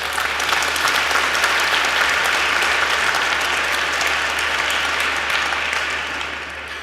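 A large audience at a public debate on free expression breaks into sustained applause, a dense steady wash of clapping that holds strong for several seconds before starting to thin out at the end.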